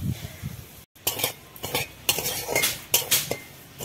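A spoon scrapes and clinks against a wok as semolina is stirred while frying in ghee over low heat, with irregular metallic scrapes and knocks over a faint sizzle, close and without talk.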